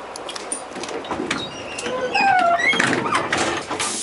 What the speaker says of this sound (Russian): Двери закрываются.